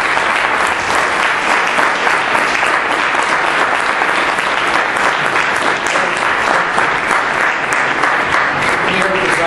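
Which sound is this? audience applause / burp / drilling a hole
audience applause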